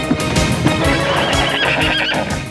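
Ancient Persian messenger horses at a relay station neigh loudly and repeatedly over steady clip-clopping hooves, close and busy for about two and a half seconds, with no voices.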